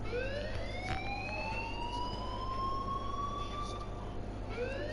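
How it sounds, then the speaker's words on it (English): A wailing alarm in the Life is Strange video game rises and sweeps repeatedly in tone, loud and continuous over a steady low hum, with no talking. "please turn off that alarm since that's your job"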